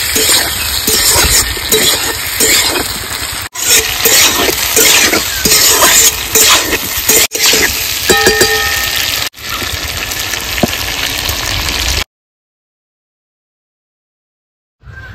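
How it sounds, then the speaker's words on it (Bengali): Potatoes stir-fried with chili and cumin paste in a pan, a steady loud sizzle broken by metal spoon scrapes and clinks, running about twelve seconds before cutting to near silence. "এর মধ্যে দিয়ে দেবো লঙ্কা জিরে বাটা, ভালো করে নেড়ে চেড়ে একটু কষিয়ে নেবো।"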